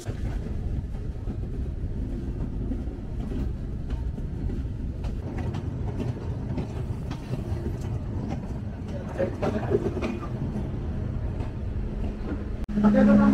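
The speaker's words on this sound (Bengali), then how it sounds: "2 মিনিটে যাত্রা বিরতি শেষ করে চিত্রা এক্সপ্রেস এই মুহূর্তে ছেড়ে যাচ্ছে" Chitra Express train pulling out of Ullapara railway station after a short stop, a steady loud rumble of rail cars with clattering running through, and a louder sharper burst near the end.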